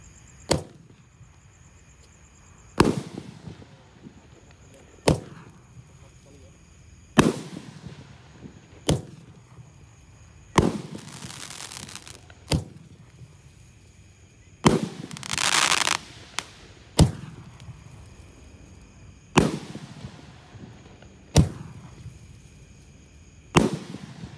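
A large 1.9-inch roman candle fires a shot every couple of seconds with a sharp pop. Each shot is followed by a fizzing trail, and one longer crackling burst comes near the middle of the string.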